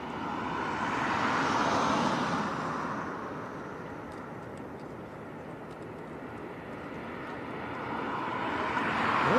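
A Jet2 airliner tries to land at Leeds Bradford Airport in the strong winds of Storm Eowyn, its engines giving a broad, distant roar that swells, fades and rises again against heavy wind noise.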